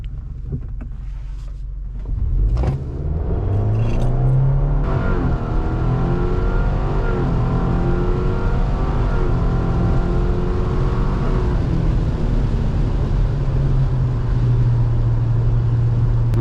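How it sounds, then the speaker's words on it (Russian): Turbocharged Subaru Forester SK5 pulls away on wet asphalt: quiet idle, then a loud engine surge climbing through several gear changes with rising, falling pitch, heard from inside with wind roar and no talk. "Машина поехала классно, гудит тоже супер."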